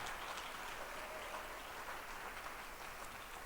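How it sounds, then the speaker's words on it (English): Audience applause at a Smart Stewards community 10th anniversary summit, a steady broadband patter of clapping sustained at a fairly even, moderate level throughout, with no voices over it. "I thought that applause would be louder this time around."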